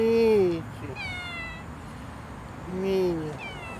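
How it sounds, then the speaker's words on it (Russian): A stray cat sitting on a grave in a cemetery lets out two drawn-out, loud meows, one at the start and one near the end, close by in quiet outdoor surroundings. "Нищий кладбищенский кот на могиле, на кладбище."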